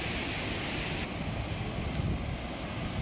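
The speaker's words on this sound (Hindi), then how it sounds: "अब गेट खोलकर पानी निकाला जा रहा है।" Floodwater pouring through the opened gates of a dam in Madhya Pradesh during heavy rains: a continuous, dense roar of rushing water, steady and broadband, with no voices.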